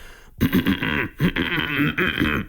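A rough, gravelly throat-clearing rasp, used as a beatbox throat bass sound, repeats in several strained bursts with brief breaks between them, close and fairly loud.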